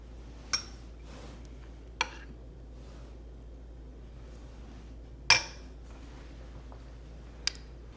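Utensils serving slow cooker chili into a bowl: a few sparse, sharp metallic clinks and taps spaced seconds apart over a quiet hum, close but soft.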